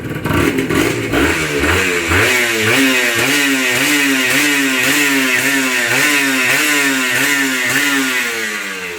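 A Honda NSR two-stroke motorcycle, freshly restored, is revved up close, its engine note rising and falling in repeated quick blips with a loud, buzzing, rhythmic rasp that never stops.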